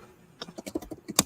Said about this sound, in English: let me just finish this um thing that I'm typing